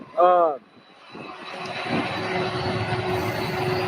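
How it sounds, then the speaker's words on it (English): Boeing 767 airliner at Louisville airport, its jet engines building into a steady broadband roar that swells and holds, following a brief burst of someone talking at the start. "And here we go with another Boeing 767"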